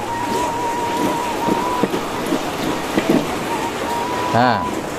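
Rain begins falling outdoors as a steady, fairly loud broadband hiss throughout, with scattered louder patters and a voice speaking over it.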